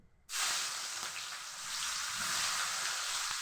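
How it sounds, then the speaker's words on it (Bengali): Sliced onion drops into hot oil left from frying fish, bursting into a sudden loud sizzle that settles into a steady hiss, rising slightly toward the end. "এবার আমি এই মাছের তেলটার মধ্যে আমি কেটে রাখা পেঁয়াজটা দিয়ে দিলাম।"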